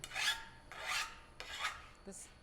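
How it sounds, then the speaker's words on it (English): A hand file scrapes welding slag off metal in four rasping strokes, evenly spaced and close, with a faint metallic tick near the end. "So I'm just going to go against the slag, and it comes off pretty easily."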